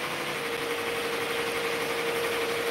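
An embroidery machine stitches a hoodie at 850 stitches per minute, a dense continuous mechanical whir with a steady hum that runs unbroken and close throughout.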